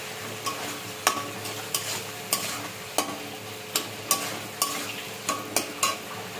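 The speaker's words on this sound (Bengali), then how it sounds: "আদা পেস্ট করাটা দেবো, এবার দিয়ে ভালো করে কষাবো" Ginger paste being sautéed in a pan for a Bengali fish curry, with a soft steady sizzle under repeated sharp scrapes of a spoon against the pan, roughly once or twice a second, close and moderately loud.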